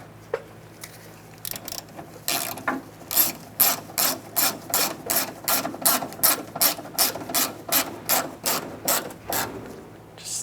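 A ratchet clicks rapidly while tightening screws on the front exterior door handle of a Dodge Durango, a close, even run of about twenty strokes after a few quiet fumbling sounds, no talking.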